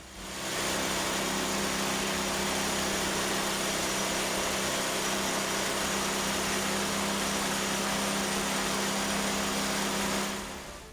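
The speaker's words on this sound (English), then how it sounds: "See if there's any smoke when we run this engine on this fuel." A small engine fed through a Geet fuel processor runs continuously, a steady droning hum with a constant buzzing tone, close and even in level from start to finish.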